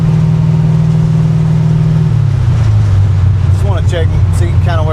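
Car with a 347 engine and TKX gearbox pulling under throttle, a loud droning engine note that drops in pitch partway through, with voices talking over it toward the end.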